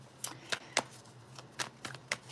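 Tarot cards being shuffled, a quiet series of about eight crisp riffling snaps at an irregular pace, close and soft, with no talk over them.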